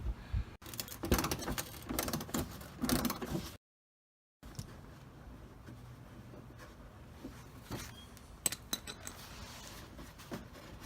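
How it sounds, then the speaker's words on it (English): A 10 mm socket wrench works on a headlamp screw of a Lexus RX300, giving a run of close, small metallic clicks and scrapes, broken by a brief silent gap. "we're going to remove this one with a number 10 or a 10 millimeter socket wrench"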